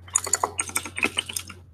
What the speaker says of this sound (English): for the typing sound.